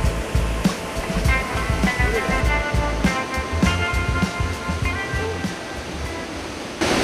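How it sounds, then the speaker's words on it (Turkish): Rushing river water pours steadily beside a waterfall near Gürgentepe in Ordu, a loud, unbroken wash of close white noise with scattered splashes and knocks throughout. "Sadece su sesi var."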